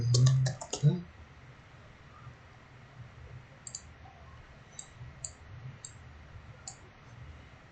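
Computer keyboard typing starts with a quick burst of loud key clicks, then a pause, then several scattered lighter taps and clicks, close by and quiet in a still room.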